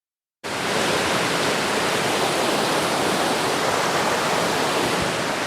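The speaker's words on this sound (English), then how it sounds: "from the noise, you can probably tell we're now on the river" A mountain river rushes in a steady, loud wash of white water, starting abruptly and continuing without pause, close and alone with no voices.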